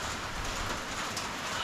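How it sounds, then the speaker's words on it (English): Heavy rain pours down steadily on a muddy jungle building site where concrete footers for a container foundation are going in. The downpour is a dense, even hiss with no break and no voices. "it is pouring with rain"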